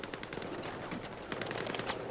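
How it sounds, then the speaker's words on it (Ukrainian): Rapid bursts of gunfire crackle in quick succession, faint and distant, like automatic weapons in a game. "Хтось по мені стріляє, не може попасти."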